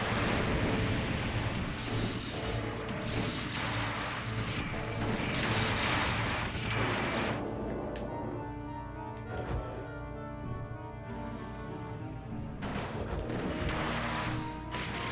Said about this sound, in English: And I proceed to miss all over the place with the shot cannon